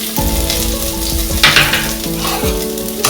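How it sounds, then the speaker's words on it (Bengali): Chopped onion and garlic fry in a hot pan, a steady loud sizzle with stirring scrapes and soft clinks at intervals. No one talks. "পেঁয়াজ আর রসুনকে একদম লাল করে ভেজে নেব।"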